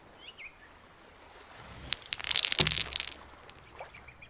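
Perfectly balanced stacked rocks on a beach toppling over: a quiet outdoor backdrop broken midway by a short burst of sharp stone-on-stone clacks and knocks, then settling back to near stillness.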